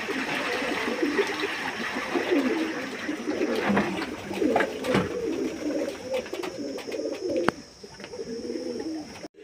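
Domestic pigeons coo repeatedly while bathing in water, their soft rolling calls close by over light splashing and a few sharp clicks.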